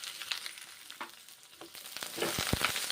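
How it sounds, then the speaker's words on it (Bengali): Pointed gourd pieces frying in hot mustard oil, a close crackling sizzle with sharp pops and spatters that grow busier toward the end. "এখন আমি পটলগুলো ভেজে নিচ্ছি।"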